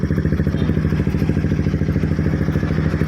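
A Honda NS200 motorcycle engine idles close by with a steady, loud, rapid throbbing pulse and mechanical clatter, running evenly throughout without talk.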